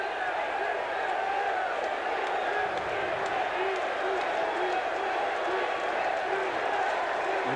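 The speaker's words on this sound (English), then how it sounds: "The crowd chanting, "Keep it, keep it."" Baseball crowd at an Expos vs Mets game chanting "keep it" in a steady, rhythmic roar, a dense distant wash of many voices that never lets up.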